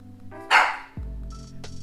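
A dog gives a single bark or yip over a running car engine's low rumble, with a quick chirp following, close and moderately loud.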